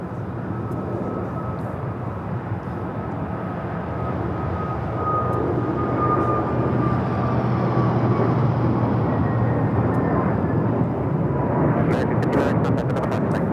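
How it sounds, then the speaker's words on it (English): An American Airlines A321neo taking off at Los Angeles airport, a steady, broad jet roar building gradually and holding at a distance. "This is American Airlines Flight 59 taking off to Kailua Kona on the A321neo."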